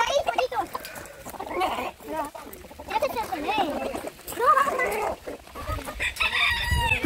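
A small young turkey calls in short chirping and clucking bursts at a home with other fowl about, close and fairly loud, mixed with a person talking.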